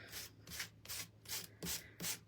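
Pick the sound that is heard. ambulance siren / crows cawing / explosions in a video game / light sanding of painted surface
light sanding of painted surface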